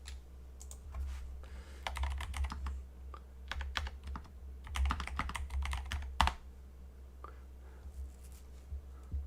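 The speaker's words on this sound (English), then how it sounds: "Let's type a comment." Typing on a MelGeek Pixel brick-built keyboard gives bursts of quick, close, clicky keystrokes in uneven clusters with short pauses, over a low steady hum.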